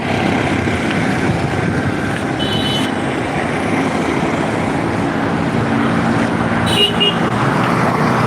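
Busy Dhaka street traffic roars in a dense, loud, continuous wash of engines and road noise, with car horns tooting now and then from close by.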